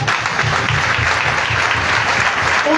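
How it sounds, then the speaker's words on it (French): A church congregation applauding together during a sermon, steady dense clapping that holds loud and close throughout, with a faint murmur of voices in the crowd. "Acclamons pour le Seigneur."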